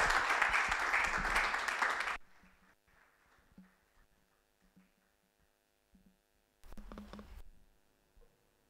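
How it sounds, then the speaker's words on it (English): Audience at a panel dialogue event applauding loudly for about two seconds before cutting off to a quiet room hum, then a second short burst of clapping later. "give a round of applause to yourselves too"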